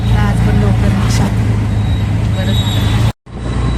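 Auto rickshaw ride through road traffic, with a steady low engine drone and road rumble throughout and a brief dropout near the end.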